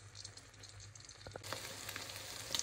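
Shrimp fritters (ukoy) made with egg and no flour frying in a pan, a faint steady sizzle with light crackles and a soft clatter partway through.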